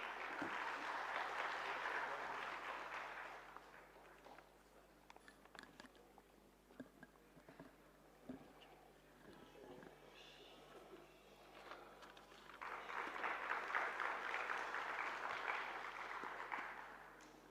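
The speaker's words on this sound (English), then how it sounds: "Please welcome us with a round of applause." Two bursts of soft, distant audience applause welcome a speaker at a plenary session, with quieter shuffling and room noise in the gap between them.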